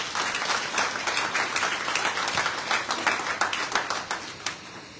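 Crowd at a Guadeloupe solidarity-days gathering clapping together, a steady broad roar of many hands with some sharper claps poking through, lasting the whole stretch with no speech.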